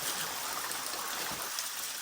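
A nearby forest stream runs past a bamboo hut deep in the woods, its flowing water a steady, close hiss that continues alone without a break.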